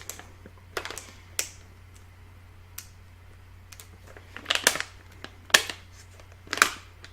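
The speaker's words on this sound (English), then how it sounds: "this is going to be kind of hard to open because it has a resealable little lid there" A resealable plastic lid on a candy package from a snack subscription box is pried open, giving a few sharp crinkly clicks and snaps, sparse at first and then a cluster of louder pops near the end, close and alone.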